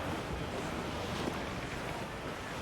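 Sea waves and gusting wind in a squall from the Assassin's Creed IV: Black Flag video game, a dense, loud, continuous roar of surf and wind with no break.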